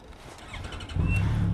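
A 2019 Yamaha FJR1300 motorcycle engine on an autumn ride, a low rumble that swells suddenly louder about a second in as it revs up.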